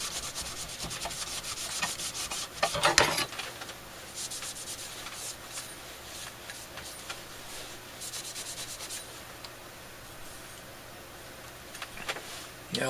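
A dirty Air-King Model 4607 fan is rubbed with cleaner, a close, steady scrubbing and rubbing with strokes that come and go, and one louder rough burst early on.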